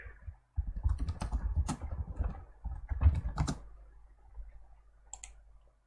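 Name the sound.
computer mouse clicking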